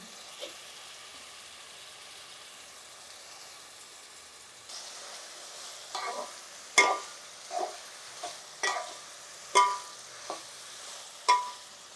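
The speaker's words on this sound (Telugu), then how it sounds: "చక్కగా వేసేసుకుంటే ఇవి కొంచెం బాగా మగ్గాలి. వంకాయలు కదా ఇవి." Brinjal pieces fry in a pan for a chicken brinjal curry: a soft sizzle at first, then a spoon scrapes and stirs in repeated close strokes over the steady frying hiss, with no voices.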